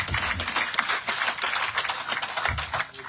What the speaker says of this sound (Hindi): खड़े हो जाएंगे, जोरदार तालियां हम